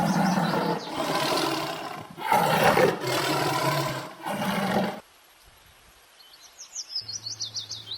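A tiger roars in several long, loud, rough bursts close up, followed by a quieter stretch with bird chirps trilling in the background.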